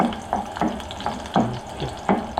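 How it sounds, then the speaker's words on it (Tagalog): A spatula scrapes and stirs food frying in a pan over a soft sizzle, four or five distinct scraping strokes at an uneven, unhurried pace, close up. "Tapos alawin natin ng konti para naman ay hindi masunog."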